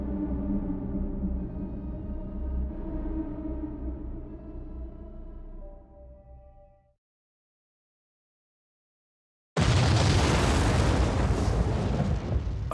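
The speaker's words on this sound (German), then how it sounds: "Das Blau hieß nur, es ist eine blaue Explosion, die dich tötet" A low rumbling sound from the video game Zero Escape: Zero Time Dilemma fades into silence, then a sudden loud, broad blue explosion bursts in and roars on for several seconds.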